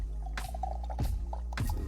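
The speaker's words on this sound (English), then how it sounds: "I'm going to pour it into this glass for us to see" Homemade palm oil poured into a glass, close and wet, in three short separate pours or drips over a low steady background.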